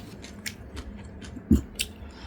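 Soy-sauce marinated crab (ganjang gejang) at a home meal being bitten and chewed, heard as a soft close crunch with a sharper bite near the end, over a low room hum.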